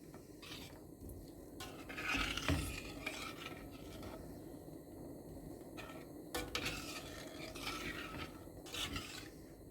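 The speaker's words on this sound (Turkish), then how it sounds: "Şöyle ara ara karıştırıyorum. İrmiğin bir yerde topaklanmasına izin vermeden" A spoon stirs a semolina and milk mixture in a pot, giving soft, steady scraping and swishing with occasional light clinks against the metal, quiet and close.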